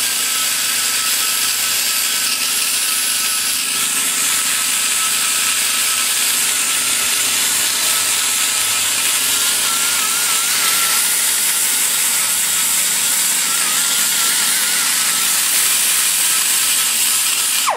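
Large rotary cutters grind a bronze casting head with a loud, continuous, harsh whirring and rasping that runs steadily the whole time, close up and with no talk.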